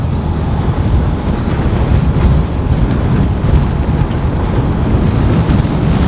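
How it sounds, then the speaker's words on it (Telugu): Strong wind buffets the microphone on a long motorcycle ride from Kavali to Nellore. The roar is loud and steady throughout, with no speech. "ఈ గాలి ఎక్కువ వచ్చేస్తుంది అసలు"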